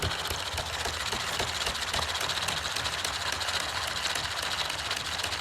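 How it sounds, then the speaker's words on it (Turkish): Engine running steadily after being started, a close, even mechanical whir with a fast rhythmic ticking and no speech over it. "Motoru önce bir çalıştıralım."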